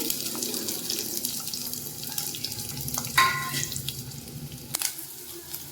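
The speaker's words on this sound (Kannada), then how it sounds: "ಎಣ್ಣೆ ಸ್ವಲ್ಪ ಕಾದ್ಮೇಲೆ ಈರುಳ್ಳಿ ಮತ್ತು ಬೆಳ್ಳುಳ್ಳಿ 1 ಇಂಚ್ ಆಗೋಷ್ಟು ಶುಂಠಿನ ಹಾಕ್ಕೊತಾ ಇದ್ದೀನಿ" Onion, garlic and ginger frying in hot oil in a pan, giving a steady, close, hissing sizzle with a couple of light clinks and no speech.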